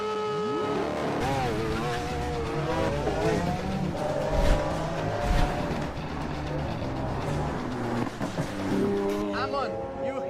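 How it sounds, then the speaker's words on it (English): A Rimac Nevera electric hypercar at speed, its motor whine rising and falling in steady sweeping tones alongside a loud rolling rush, with voices heard over it. "This is the fastest car"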